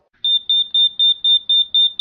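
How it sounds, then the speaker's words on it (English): A glitched alarm clock in a bunker beeps loudly and steadily, eight evenly spaced high electronic pulses in a quick regular rhythm, alone with no talking. "Glitched alarm."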